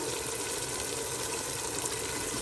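Water poured into mutton daal cooking in a pot, a steady, continuous rushing wash of sound throughout, with no talking.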